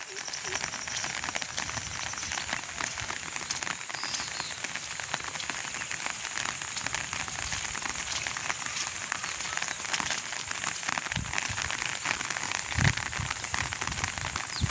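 Steady rain falls in a rural village, a dense continuous patter with scattered sharper drop hits throughout, while a voice speaks now and then under it.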